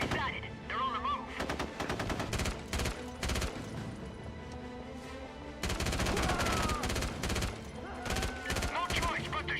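Gunfire in the video game SOCOM 3, with dense, loud bursts of automatic rifle shots and rapid volleys that pause briefly and then resume heavily.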